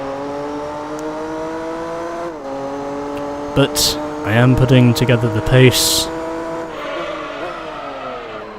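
Race car engine in Gran Turismo 4 Prologue holding steady revs with a bright harmonic drone, shifting pitch at a couple of points, plus a burst of tire squeal and skidding mid-clip; someone talks over it.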